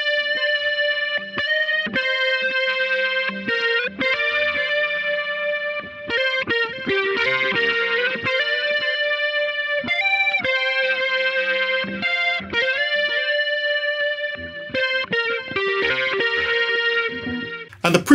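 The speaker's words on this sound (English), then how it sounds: "the preset I'm using in Logic is the Fuzz Vibe preset, which you'll find under Guitars and Bass, Distorted Guitar" Lead guitar melody played through Logic Pro's Fuzz Vibe distorted guitar preset for a New Jack Swing beat, a bright fuzzy line of short phrases and sustained notes, loud and clear with no talk.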